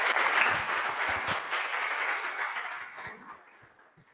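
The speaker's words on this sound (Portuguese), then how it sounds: "convido para que vocês a recebam com uma salva de palmas" A welcoming round of applause from a church event audience greeting the next speaker, a dense burst of clapping that holds steady and then fades away toward the end.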